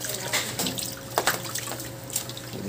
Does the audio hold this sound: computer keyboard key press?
no